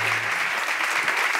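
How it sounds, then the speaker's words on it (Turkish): Studio audience applauding at a Turkish comedy talk show, a steady dense wash of clapping that fills the whole moment without any talk over it. "Herkes alkışlarla yerine gönder."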